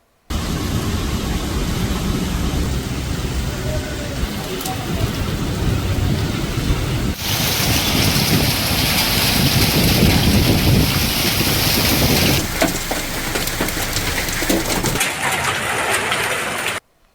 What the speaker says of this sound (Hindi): बिजली के कड़ाकों के साथ धुआंधार बरसात बरसती हुई देखने मिली